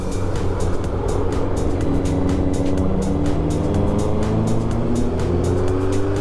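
Kawasaki Z900 motorcycle engine captured from a helmet-mounted mic on an autumn ride, a steady loud drone with rising and falling engine tones and constant wind rush, no voices.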